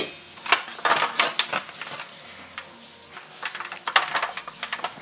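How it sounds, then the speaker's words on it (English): A utensil scrapes the inside of hot baked potato skins for potato skins, giving a series of short, close scratchy strokes in uneven bursts with no talking. "You want to just scrape a little inside"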